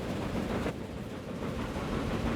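Trains running along a busy mainline in Transport Fever 2 give a steady, continuous low rumble of rolling stock with a faint clickety-clack, unbroken across the whole stretch with no talk.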